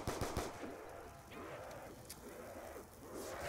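Rapid gunfire from a zombies shooter game fills the scene, with dense bursts of shots crackling steadily over a busy game background; no one talks.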